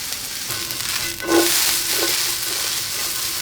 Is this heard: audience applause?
no